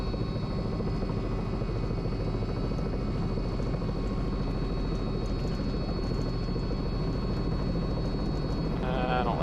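A medivac helicopter in flight, heard from inside the cabin: a loud, steady rotor and engine roar that holds constant throughout, with no other sounds standing out.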